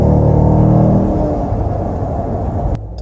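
A 2018 Dodge Durango SRT with the 392 V8 accelerating hard, a loud, deep engine roar that climbs and then holds steady before cutting off abruptly near the end.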